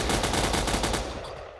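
Rapid automatic gunfire from the Crafting Dead video game, a burst of about a dozen quick shots in a steady rhythm before fading out.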